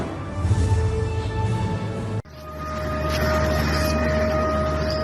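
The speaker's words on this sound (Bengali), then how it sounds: "হঠাৎই সাইরেনের শব্দে কেঁপে ওঠে লাহোরের ওয়ালটন রোড এলাকা" An air-raid siren wails in the Walton Road area of Lahore, a sustained droning tone that holds steady, cuts briefly, then resumes loud and unbroken.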